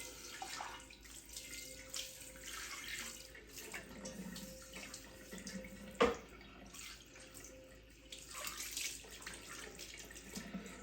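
Tap water runs over a cast iron pan being rinsed, a soft continuous splash with faint clatters and one sharp knock of metal, quiet and close.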